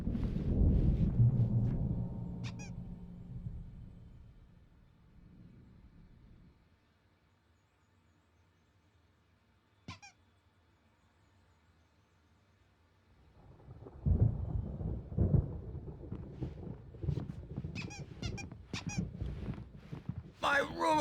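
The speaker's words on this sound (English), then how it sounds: "There's a storm coming. Oh, what a storm." A thunderstorm in the video game Alan Wake Remastered, with deep rolling thunder rumbling loudly, fading to near quiet, then swelling again with crackling rain, as voices speak over parts of it.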